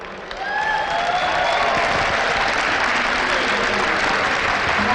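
A large crowd claps steadily at a Gamescom esports event, sustained applause swelling in after a brief lull and holding loud and continuous with no voice over it.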